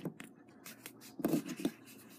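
Cardboard being cut for a DIY toy phone craft, soft close scraping and snipping strokes in short uneven bursts, quiet and without speech.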